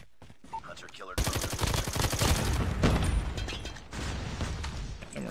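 Gunfire from the Call of Duty Mobile video game played on an M4 iPad Pro: a loud, dense burst of rapid shots and mechanical clatter that starts after a brief quiet moment and runs nearly continuously to the end.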